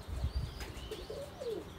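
Pigeons give soft low coos and brief wing flaps close by, with a few thin chirps and faint whistling wing sounds over a steady outdoor background.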